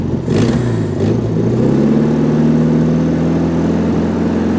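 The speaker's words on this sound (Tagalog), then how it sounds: "I-rev nyo nga po, i-rev." An owner-type jeep's engine revving up loud and close, pitch climbing in the first second and then holding a steady, rough drone as it keeps running.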